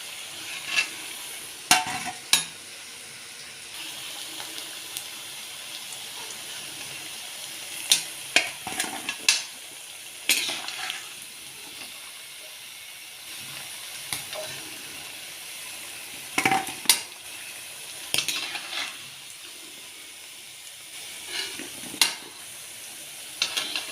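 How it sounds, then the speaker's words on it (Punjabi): Potato pieces frying in oil in a kadai for masaledar dum aloo, a steady close sizzle broken by irregular scraping and clinking stir strokes, with no talk. "ਆਲੂ ਨੂੰ ਫਰਾਈ ਕਰਦੇ ਆ 5 ਮਿੰਟ ਹੋ ਗਏ ਨੇ"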